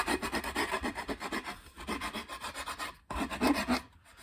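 A file rasps across the edges of a wooden cigar box guitar headstock, rounding them off in repeated close scraping strokes with brief pauses between passes, and no voices.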